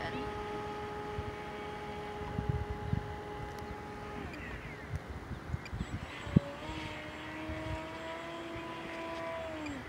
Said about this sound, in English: I'm gonna go up and try a flat spin.